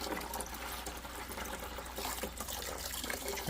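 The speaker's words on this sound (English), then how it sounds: "now let's go ahead and pour the rest" Turkey brine liquid from a Kinder's butcher's brine kit pours steadily into a pot, a continuous close splashing and trickling that runs the whole time without talk.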